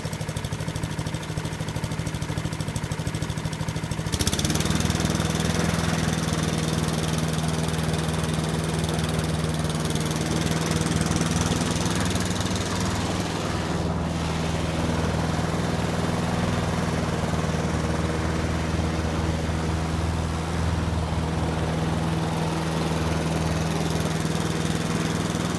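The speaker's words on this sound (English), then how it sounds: "I'll just turn the revs up a little bit." A Honda Mountfield 21-inch walk-behind lawn mower engine is throttled up from idle to a steady medium-speed drone, with a loud, continuous hum that jumps in pitch after a few seconds and stays constant, with no talking.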